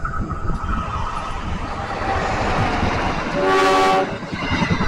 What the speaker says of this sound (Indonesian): langsung disambut sama kereta berantas dan Joglo Sumarkerto